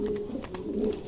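A pair of Lakha pigeons coo softly and steadily up close, a low continuous murmur with no other sound.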